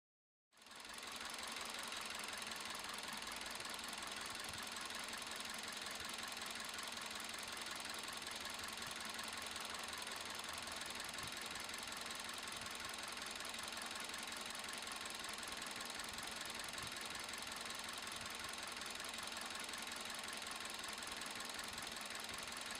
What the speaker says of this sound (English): Let's check the operation of the engine again after repairing the ignition system.